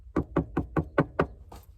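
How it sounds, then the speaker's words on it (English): At night, someone knocks on the door of a parked van: six evenly spaced, firm raps and then a softer seventh, with nothing else audible. "Because where I'm at, nobody should be knocking."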